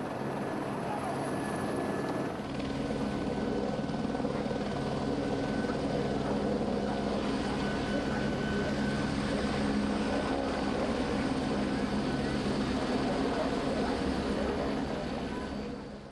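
A helicopter roars loud and steady, its rotor thrum and engine whine filling the whole stretch with a dense, unbroken drone.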